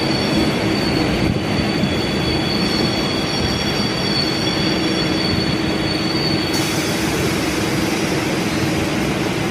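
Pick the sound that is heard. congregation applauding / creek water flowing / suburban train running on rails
suburban train running on rails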